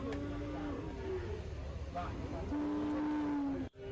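Buffalo calves at a livestock market in Cholakkal low with two drawn-out moos, one early and a longer one later, over a busy background murmur of the market.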